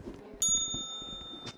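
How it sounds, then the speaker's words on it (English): A bell struck once in the Rec Room VR game rings out sharply and clearly, its bright tone sustaining through the rest of the clip with a second quick ding near the end, over faint background murmur. "I can hit the bell for you."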